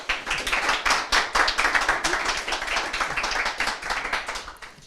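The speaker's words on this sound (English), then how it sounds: "Please, applause for Andre" Audience applause at a youth panel discussion, a steady burst of hand clapping from a modest crowd lasting several seconds, close and fairly loud.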